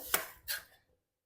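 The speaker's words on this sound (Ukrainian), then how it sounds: "І тепер нарізаю усі овочі." Two quick knife chops land on a cutting board as vegetables are cut, short and crisp, a brief pause between them, then quiet.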